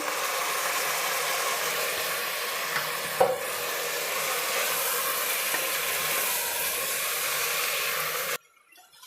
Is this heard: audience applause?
no